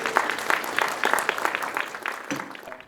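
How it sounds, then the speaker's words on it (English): Audience members at a heritage-centre opening ceremony clap in a round of applause. The irregular, fairly close claps are lively at first, then thin out and fade over about three seconds. "So give yourselves a round of applause for being here first of all"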